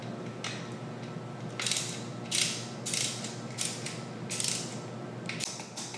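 A torque wrench clicks and ratchets as a bolt is tightened to 6.2 newton meters on a 2018 Specialized Turbo Levo e-bike, giving a handful of short, close mechanical bursts over a quiet hiss, with no talking.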